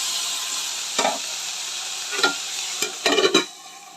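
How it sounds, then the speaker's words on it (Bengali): Bitter gourd pieces, salted and dropped into hot oil, fry with a steady close sizzle while a spatula scrapes and stirs in a few strokes, the last ones bunched into a quick rattling burst; no one speaks. "উস্তেটা একটু লবণ দিয়ে দিয়েছি, এখন নেড়ে নেবো।"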